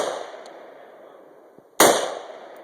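An AR-15 rifle fires a single sharp, loud shot at an outdoor range while shooting at 100 yards; the crack rings out and decays after a quiet stretch of low background noise.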